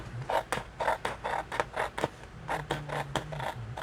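Scissors snip out a paper square in a run of repeated rasping cuts, close and fairly loud with short gaps between strokes.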